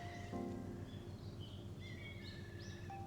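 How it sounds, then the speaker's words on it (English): Several birds call and chirp among the trees in Japan, faint and scattered over a soft, steady background hiss. "there's different birds calling in the trees"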